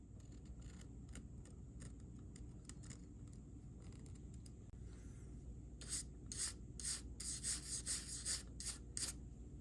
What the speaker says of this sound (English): We can begin with the body by deepening the panel lines with a scriber.